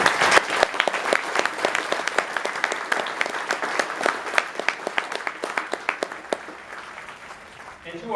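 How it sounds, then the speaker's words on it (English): An audience at an Air Force graduation ceremony applauds veterans, a sustained round of many hands clapping in a large space that gradually thins out, with some voices mixed in. "a big applause for our veterans."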